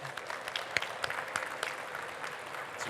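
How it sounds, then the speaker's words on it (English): Conference audience applauding, a soft, distant patter of clapping with a few sharper individual claps standing out. "please join me in a round of applause for Eman and the vision of SiGMA 2030"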